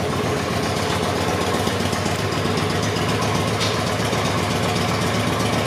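2007 Honda Shadow 750 Aero motorcycle engine idling steadily, a loud, close, even low rumble that holds constant throughout with no talking.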